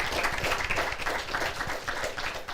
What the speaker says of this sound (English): Let's give it one more round of applause for this panel